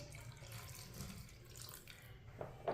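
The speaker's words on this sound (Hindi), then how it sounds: "आधा गिलास पानी और डाल लेंगे।" Half a glass of water is poured into a pot of chicken, a short close splashing rush that runs for a couple of seconds and ends with a small clatter.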